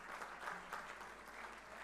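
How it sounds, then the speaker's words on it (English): An audience applauds online guests at an Indian launch event for IIEduTech, a brief, dense burst of clapping heard somewhat distantly and fairly quietly, without pauses. "Can we please have a huge round of applause for our guests who have joined online?"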